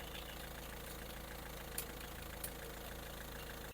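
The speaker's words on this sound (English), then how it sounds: "I'm going to start the car" A 2013 Peugeot Partner engine idles with a steady, low, even rumble, joined by two faint clicks partway through.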